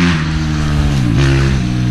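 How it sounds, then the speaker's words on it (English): Dirt bikes on a wooded trail network ride past with a continuous loud, buzzing engine drone whose pitch rises and dips slightly, close and steady throughout. "First, got some dirt bikes."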